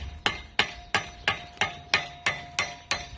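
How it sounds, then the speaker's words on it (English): A hammer strikes a nail end over and over to peen a rivet head on a garden fork handle, giving about nine sharp, evenly spaced metallic taps close by with short ringing decay. "So he's trying to put a rivet head on so that the nail doesn't come out."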